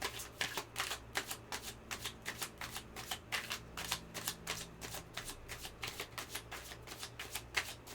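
Tarot cards shuffled by hand: a long run of rapid, crisp riffling flutters repeating in a steady rhythm, close and fairly quiet, with no talk.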